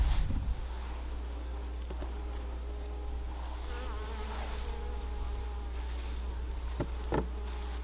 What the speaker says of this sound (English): the bees looked a little agitated with having the wasps and the yellow jackets around